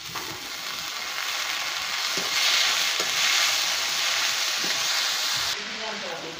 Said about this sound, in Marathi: आता मोड आलेले हे आपण मूग टाकूया.